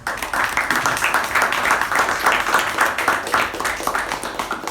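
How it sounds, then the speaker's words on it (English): A room of meeting attendees gives a round of applause, moderately loud, irregular clapping that keeps going evenly for several seconds. "that person should be given a special round of applause"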